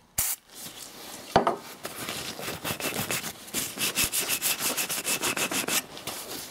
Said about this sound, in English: send a bolt through to chase out some of the bits a bit more